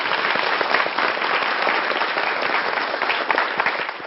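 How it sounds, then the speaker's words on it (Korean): A lecture-show audience gives a young man a round of applause, continuous and full for the whole stretch, many hands clapping at once in a steady wash without speech. "청년에게 박수를 부탁드리겠습니다."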